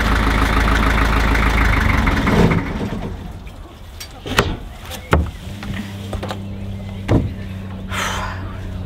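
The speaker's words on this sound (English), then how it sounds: "Shall I turn the engine off?" A narrowboat engine idles with a loud, steady low rumble for a couple of seconds, then cuts out, leaving quiet air broken by a few knocks and clunks.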